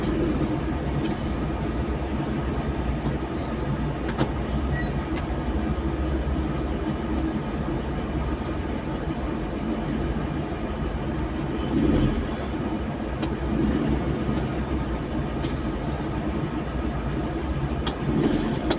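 Steady road traffic at a busy city intersection in the Philippines, a constant rumble of car engines with occasional passing vehicles, heard from inside or near a car without talk.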